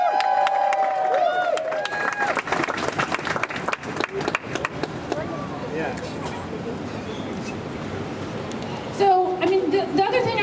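A downtown Portland tenants' rally crowd breaks into sustained applause and cheering, a steady wash of clapping and shouts close by, with voices calling out over it.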